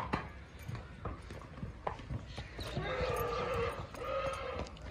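A mare walks with uneven hoof clip-clops on hard ground, close by, then lets out a drawn-out whinny during the second half.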